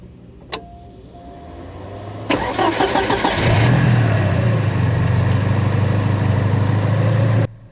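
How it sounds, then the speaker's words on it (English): A 1986 Porsche 944 Turbo engine cranks and catches after a couple of clicks, then settles into a steady, close idle before cutting off abruptly. "We'll start it up, listen to the engine, listen to the idle"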